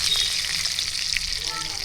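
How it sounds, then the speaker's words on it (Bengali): Bay leaves and whole garam masala spices hit hot oil in a pan, left over from frying prawns, giving a loud, close, steady sizzle with a faint stirring scrape. "আমি তেজপাতা আর গোটা গরম মশলা ফোড়ন দিয়ে দেবো।"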